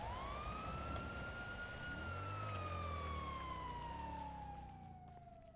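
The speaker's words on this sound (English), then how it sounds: "Please turn your sirens off before I go insane." A police car siren wails in the GTA V game, a single long tone that slides gradually downward and holds loud and near, with engine rumble underneath, then fades slightly at the close.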